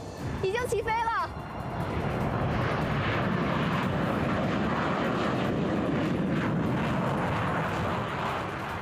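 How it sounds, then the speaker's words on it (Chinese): A new Chinese trainer jet roars loudly and steadily as it flies close past during a flight test, its broad engine noise filling the scene after a brief voice at the start. "现在飞机正在从我身边划过"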